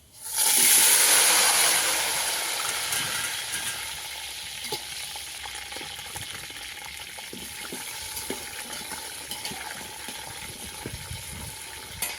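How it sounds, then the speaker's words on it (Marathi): Eggplant dropped into hot oil over a wood-fired stove bursts into a loud hissing sizzle that settles after a couple of seconds into a steady crackle with scattered pops, close by and without talk. "हे वांगे मी तळून घेणार आहे तेलामध्ये."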